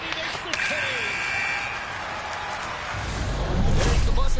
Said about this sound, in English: There's the buzzer bringing the second period to an end